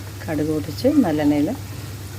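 Mustard seeds and green chillies splutter in hot sesame oil for a vegetable pickle, a soft frying hiss running under a voice that sounds out clearly over it.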